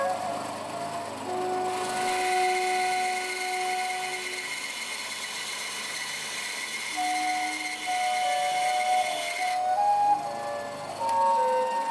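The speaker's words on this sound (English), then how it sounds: "we'll mark that out and cut a chunk of it off in the bandsaw" A bandsaw cutting a wooden flute head joint, a sustained loud whirring hum with shifting tones from about two seconds to nine seconds, with machine running noise before and after.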